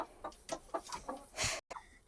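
A backyard flock of hens and roosters clucks in a steady run of short, close, rhythmic clucks, ending in a brief louder rustling burst.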